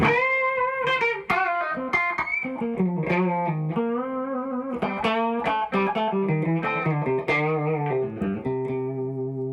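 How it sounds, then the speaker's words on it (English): Telecaster electric guitar playing a blues phrase with repeated string bends, bright notes sliding up and down between pitches in a close, clean, continuous run without speech. "if you're playing a blues bend"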